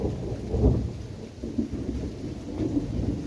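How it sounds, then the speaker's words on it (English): Rain arriving over a Ford Transit Connect van, with a deep low rumble like distant thunder and a steady wash of rainfall, moderately quiet and continuous. "Here's the rain that's coming."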